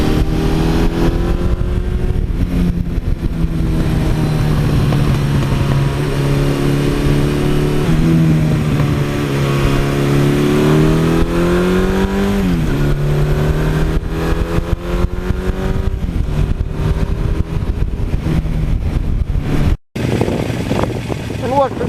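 A 1982 Suzuki GS1100E motorcycle ridden on a road, its engine loud and close with a droning pitch that climbs and falls through gear changes, plus rushing wind throughout.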